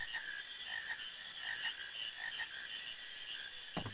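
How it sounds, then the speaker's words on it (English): Frogs croak steadily in the frog-catching mini-game of the video game Final Fantasy IX, a looping chorus of bright, repeated game-synth croaks with no talking over it. "you control Queena and you run around catching frogs"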